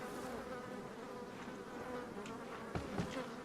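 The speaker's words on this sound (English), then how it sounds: "Many small insects are feasting on leftovers." Small insects buzzing around food leftovers in the Resident Evil 4 video game, a steady droning hum with a few faint knocks near the end.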